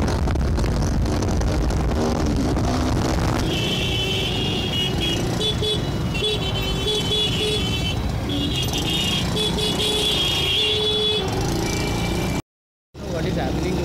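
A modified 2018 Yamaha Ray ZR scooter rides through traffic with a steady engine drone under wind noise, a few horn-like tones and a brief dropout near the end.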